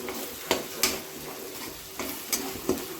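Turmeric and red chilli sizzling in oil in a pan while a spoon stirs them, a steady close fry with several sharp scraping strokes at intervals.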